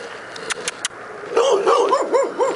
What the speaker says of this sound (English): trusty guard dogs there